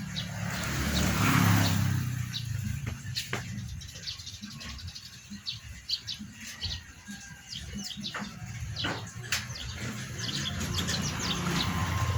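Pet pigeons kept at home, with scattered short chirps and soft calls over a steady low rumble of nearby traffic or machinery, no talking.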